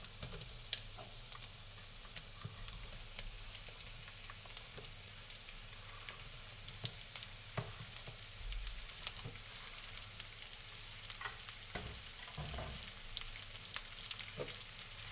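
Sliced courgettes fry in a pan, a faint, steady sizzle with scattered crackles and ticks throughout, with no voices over it.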